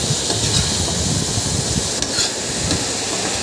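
Bitter gourd frying in a pan with turmeric, salt and green chilli paste gives off a loud, dense, continuous sizzle and hiss, with a faint clink partway through.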